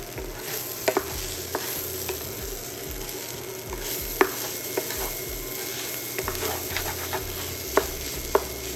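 Crab fried rice with shrimp is stirred in a hot pan, giving a steady sizzle throughout with sharp spatula scrapes and clicks against the metal at irregular intervals, close and fairly loud, with no talking.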